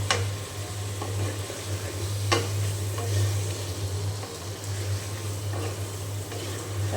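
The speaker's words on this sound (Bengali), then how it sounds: "এখন মশলার সাথে খুব ভালো করে" Taro sautéing in oil with spices in a pan, a constant steady sizzle with a low hum underneath and occasional light stirring clicks, no talking.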